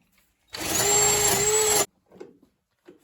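A power drill with a stiff wire brush whirs loudly for just over a second with a steady high whine and rough scrubbing texture, then stops, followed by faint clatter.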